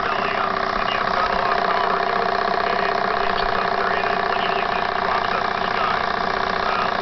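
A twin generator setup engine running at a steady idle, a continuous mid-pitched hum with fine rapid pulsing and a knocking texture, constant in level and close by.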